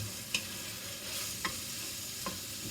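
Peppers dropped into hot oil for giambotta sizzle steadily, with three sharp scraping clicks from a stirring utensil spaced about a second apart, close and moderately loud.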